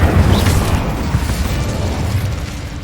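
A Confringo explosion spell goes off in Hogwarts Legacy, a loud, dense low boom that rumbles on steadily through the whole stretch without fading away.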